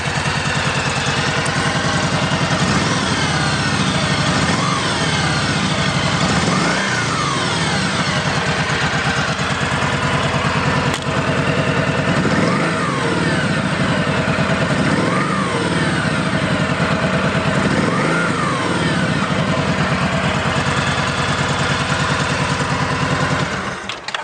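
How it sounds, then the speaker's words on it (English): A 2013 Kawasaki Vulcan 1700 Voyager V-twin with its stock exhaust idles loudly and steadily, its deep, even note rising in short blips every few seconds. "Fuel injected, so we just push the start button, cranks right up. These have a really nice exhaust note to them."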